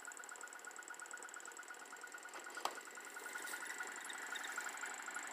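A small electric blower motor wired to a capacitor spinning up and pushing air, a faint steady whine with a high tonal hum and a single click partway through, no talk.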